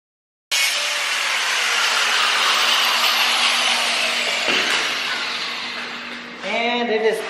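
A gas-powered cutting tool slices through a metal cross member during a dirt bike to drift trike build, roaring loud and continuous for several seconds before winding down, with a voice speaking at the end.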